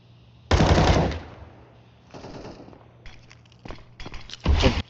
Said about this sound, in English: Flamus gets a crisp headshot on 910